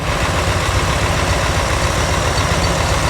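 A 1967 Chevrolet Corvette engine idles smoothly and steadily, a low, even rumble that holds at a constant level with no revving and no voices.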